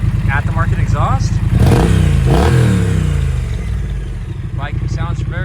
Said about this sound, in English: The 900cc 2-cylinder fuel-injected engine makes good power.